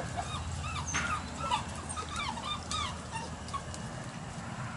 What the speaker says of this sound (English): There's some field trial dogs here.